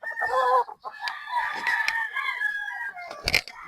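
A three-year-old golden boy sweater gamefowl rooster crows and clucks up close in a series of short, harsh calls, with a brief sharp noise near the end.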